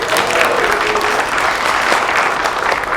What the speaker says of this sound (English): you can give some applause for the small languages